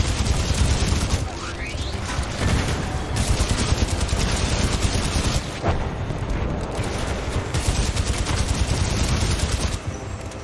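Gunfire in the shooter game Titanfall 2: sustained heavy automatic fire mixed with loud explosions, dense and near, with a few brief gaps throughout.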